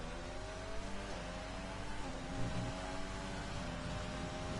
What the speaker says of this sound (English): And here comes Toast, starting his flying lap. Down to tier 1. Early upshift into 4, 5th